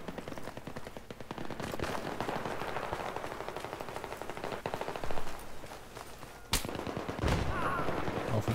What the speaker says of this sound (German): Auch von irgendwo kriegen wir wieder Schüsse.